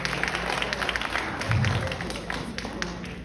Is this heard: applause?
yes